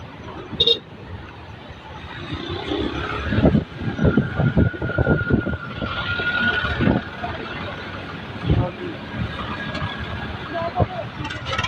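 Tractors rumble past in a farmers' protest tractor march, a steady mix of engine drone and clatter with scattered louder bursts, under people talking and crowd noise.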